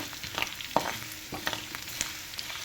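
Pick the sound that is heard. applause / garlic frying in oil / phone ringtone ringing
garlic frying in oil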